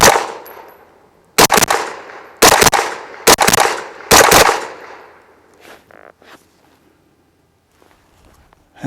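Taurus CT9G2 9mm carbine fired outdoors: four loud, closely spaced pairs of shots with echoing tails, then fainter clinks and small sounds trailing into quiet.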